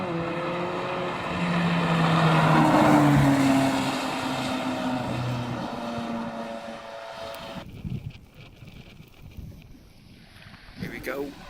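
A blue Nissan Skyline R34 drives past at a wet car meet in Cornwall, its engine note swelling to a peak and then fading amid wind noise, while people talk nearby.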